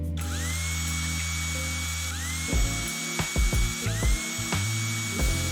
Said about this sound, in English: They're all Phillips head. So take your Phillips head screwdriver.